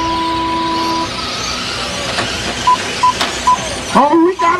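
Slash-class race cars at a 2009 Litchfield main event roar off the start together, a loud sustained engine wash with announcer talk and tones over it, revs surging near the end.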